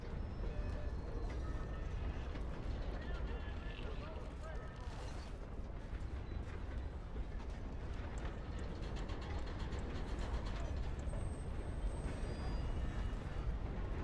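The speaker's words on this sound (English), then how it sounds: "God damn, how long is this train?" A long freight train rolls past in the Red Dead Redemption 2 video game, a steady, loud, continuous rumble and clatter of rail cars that never lets up, with a voice briefly over it.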